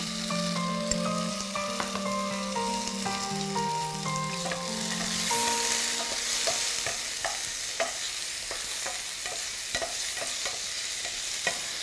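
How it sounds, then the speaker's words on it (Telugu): Tomato pieces sizzle steadily in a pan of chicken stew, a dense, continuous frying hiss with scattered crackles and pops. Faint music-like tones sit underneath early on, and no one talks. "కొంచెం డిఫరెంట్గా ఉంటుందని ఇందులో వేసుకుంటున్నాను నేను టమాటో ముక్కల్ని."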